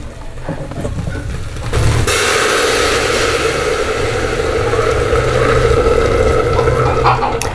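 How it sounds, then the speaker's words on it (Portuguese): Water poured into a hot pan of chicken gizzards, a sudden loud sizzle and hiss that starts abruptly and keeps bubbling steadily, with a faint low hum of the stove underneath. "agora eu já vou acrescentar a água"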